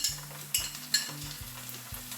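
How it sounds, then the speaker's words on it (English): Onion frying in a pan with ginger garlic paste for a vegetable curry, soft sizzling under repeated spoon scrapes and stirring knocks, close and fairly quiet. "So it's gonna start cooking onion."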